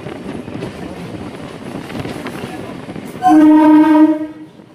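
A local train pulls into platform 1 at Panskura station on the Digha to Howrah line. Carriage rumble runs steadily beneath, then a loud, close horn blast of about a second sounds near the end.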